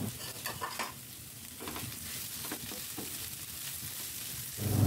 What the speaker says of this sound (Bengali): আমি চিকেনটা দিয়ে আবার খুব সুন্দর করে এটার সাথে পেঁয়াজটার সাথে ভেজে নিব